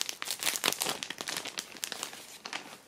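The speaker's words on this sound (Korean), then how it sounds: "이제 이 더스트백을 열어보면은" A Gucci mini dust bag being opened, producing close, crisp crinkling and rustling of packaging in quick irregular bursts.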